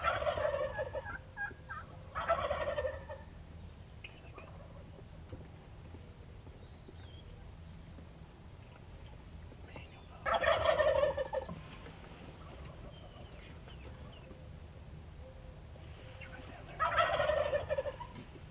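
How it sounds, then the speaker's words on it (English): Rio Grande wild turkey gobblers in Texas gobble from a distance in the dark, three separate rattling bursts spaced several seconds apart over a quiet, faintly rumbling background. "the gobblers start firing off"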